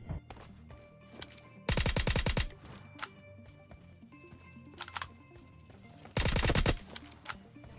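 Loud gunfire bursts from the mobile shooter game PUBG Mobile Lite knock down enemies, with two heavy volleys standing out over lighter in-game clicks and effects.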